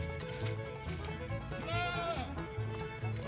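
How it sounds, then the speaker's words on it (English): Goats on a farm bleating in short wavering calls over steady low background noise, one longer bleat standing out in the middle. "I see you, goats."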